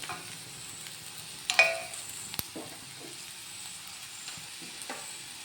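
Mango and ginger pickle mixture, with turmeric added, sautéing in a pan, giving a steady soft sizzle with a few sharp clinks of stirring near the start, close and fairly quiet throughout.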